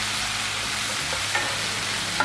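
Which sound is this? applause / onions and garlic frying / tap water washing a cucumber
onions and garlic frying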